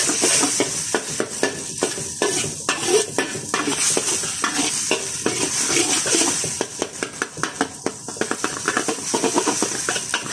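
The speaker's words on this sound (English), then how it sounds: "Just give them a sec to start cooking at the bottom, and then just start stirring them up." Eggs for a sausage omelette sizzle loudly in a pan beside sausage, with dense continuous frying hiss and rapid repeated scrapes and taps of a utensil as they are stirred and broken up, close by and without talk.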